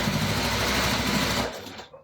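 A sewing machine runs steadily, stitching across a fabric bag. Its motor hums continuously and close up for about a second and a half, then slows and stops.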